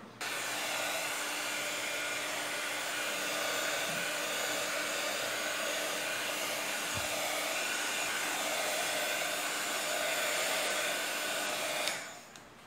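A hair dryer blows steadily on aged patina paint, a loud continuous whooshing hum held for about twelve seconds before it switches off, with no talking.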